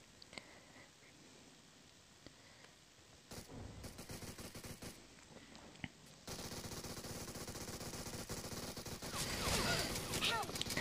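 Rapid automatic gunfire in the mobile battle royale game PUBG Mobile, bursts growing louder and denser toward the end, with a player talking over the shooting.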